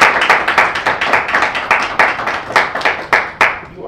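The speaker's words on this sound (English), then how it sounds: "Let's clap it up." A small audience claps for a speaker being welcomed at an immigration event, with distinct, fairly sparse hand claps in an uneven rhythm that fade out over about four seconds.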